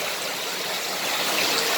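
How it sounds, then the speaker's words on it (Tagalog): Water from a submersible pump pouring into a concrete tilapia pond, a steady, close hissing rush of falling water that holds constant throughout. "nilalagyan ko na ng tubig yung aking pond ng tilapia"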